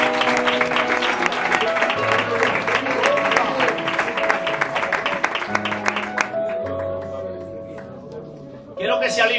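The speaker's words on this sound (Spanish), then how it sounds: "Dele un aplauso al Señor bendito." A church congregation applauds during a Spanish-language sermon, a dense sustained clapping wash that runs for several seconds, sits under steady background music, then thins and fades toward the end before a brief louder burst.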